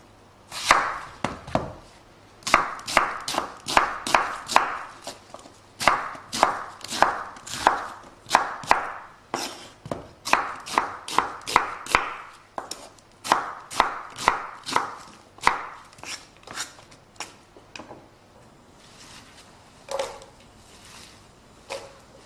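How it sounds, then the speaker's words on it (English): Three large Spanish onions being chopped with a knife on a board for a chicken korma curry: rapid, crisp, close knocks in steady bursts with short pauses, fading to a few scattered cuts at the end. "3 large Spanish onions which we're going to chop and add to our pot"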